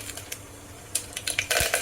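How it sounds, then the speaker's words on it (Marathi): Six or seven curry leaves crackle and spit in hot oil for a Maharashtrian val bean bhaji, giving sharp scattered pops that build into a dense, bright spluttering burst near the end. "त्यानंतर सहा ते सात पानं कढीपत्त्याची घ्यायचे ते पण तेलामध्ये तडतडून द्यायचे"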